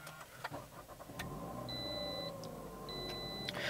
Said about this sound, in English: push this button here to fire up the engine